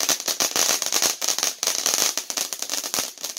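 Rapid, dense crackling bursts of firecrackers popping close by at a 3rd of July celebration, a continuous sputtering barrage with sharp individual snaps.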